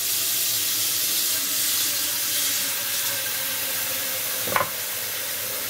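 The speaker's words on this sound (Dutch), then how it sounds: "I'm going to get my pot. I'm going to fill this up with water." Tap water pours steadily into a cooking pot in a home kitchen, a constant close hiss and rush with one brief clunk near the end.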